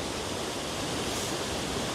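Steady roar of a waterfall heard from just below the falls on a hike, a dense, continuous wash of falling water filling the whole clip with no talk over it.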